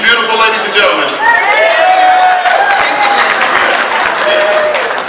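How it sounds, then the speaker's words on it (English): Gala dinner audience breaking into applause and cheering, a dense wash of clapping with shouts and whoops, loud and continuous, and a voice carrying over the crowd. "would you give her a round of applause?"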